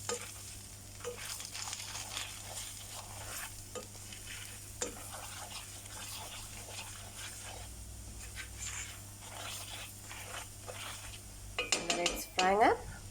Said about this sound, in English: And we're going to let this fry.